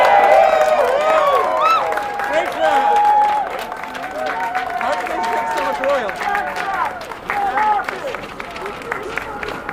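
Audience applause and cheering for Rainforest at an outdoor climate action rally in New York City, a steady crowd roar with scattered claps, whoops and voices lasting throughout.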